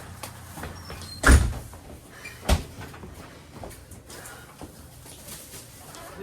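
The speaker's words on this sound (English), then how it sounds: "Close the door, close the door." A door closes with a solid thump at home, followed by a second lighter knock, both near and brief against a quiet room with faint background noise.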